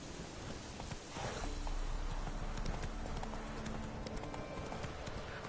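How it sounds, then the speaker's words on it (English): Horse hooves clip-clop at a steady gait in a Witcher video game, a continuous rhythmic trotting that picks up after the first second, with ambient game noise around it. "Get on the horse."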